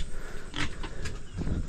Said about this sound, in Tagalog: Ayan, ito ang ating mga baboy.